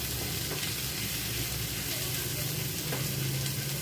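Cumin, carom seeds, panch phoron, coriander, salt, chili and turmeric sautéing in a pan, a dense, loud, continuous sizzle with faint stirring scrapes and no speech.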